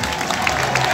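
A crowd at a city street parade in Surabaya claps and cheers, a brief dense burst of applause and voices mixed with scattered crowd noise.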